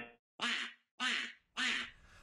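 A dog heard through a played video makes three raspy duck-like quacks in quick succession, each short and loud with brief gaps between.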